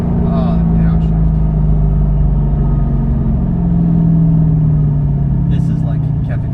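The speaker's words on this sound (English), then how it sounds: "Oh, the downshift." A Mercedes-AMG GT S engine rumbles loudly and close up through a downshift, its deep tone sliding in pitch as it holds steady, with brief voices near the start and end.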